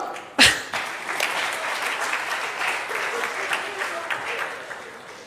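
Audience applause at the close of a national preventive and social medicine conference session, a sharp loud burst at the start settling into steady, dense clapping from a large hall crowd, with faint voices underneath.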